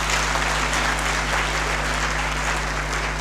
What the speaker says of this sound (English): Let's clap for them once again.